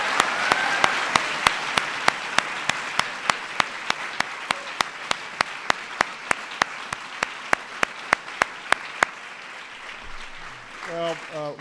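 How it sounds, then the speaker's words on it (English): Audience applause for honorees of the Arts and Humanities Medals at a presidential awards ceremony, a steady clapping wash with sharp, evenly spaced camera-shutter clicks over it, which stop before a brief voice at the end. "Let's give them a big round of applause again."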